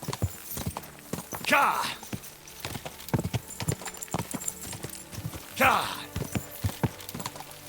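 Horse hooves clip-clop at a gallop in the video game Kingdom Come: Deliverance II, rapid and steady throughout with a couple of louder rushes, while a man calls out over the hoofbeats.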